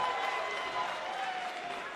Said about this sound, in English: you can hear these fans coming alive for this gut check